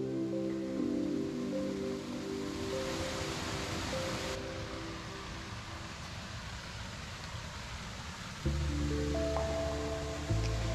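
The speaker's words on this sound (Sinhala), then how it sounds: "මේ දියල්ලෙන් එන වතුර වතුර පාරක් විදියට ලස්සනට ගලාගෙන යනවා." Water from a small forest waterfall flows and splashes as a continuous broadband rush, steady and fairly close, with a faint tonal hum running underneath.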